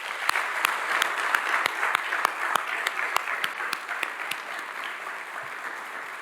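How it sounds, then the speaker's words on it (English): Steady audience applause during a county mayor's budget address, a dense wash of clapping with a few sharper individual claps standing out, even in level throughout. "Let's please show all these great businesses how much we appreciate them with a round of applause."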